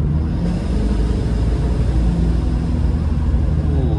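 Inside a 2.8-litre Mitsubishi Pajero, the engine drones loud and steady as it pulls under acceleration, a dense low rumble lasting several seconds without speech.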